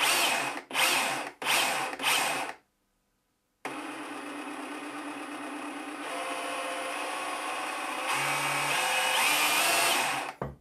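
A Ryobi RSDS18X SDS concrete hammer drill gives several short bursts, goes quiet for about a second, then runs steadily and loudly close by, its pitch shifting slightly as it speeds up.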